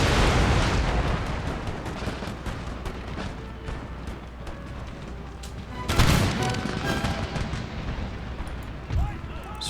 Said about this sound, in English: Screw you, puckle guns